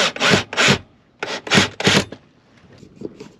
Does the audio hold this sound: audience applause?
no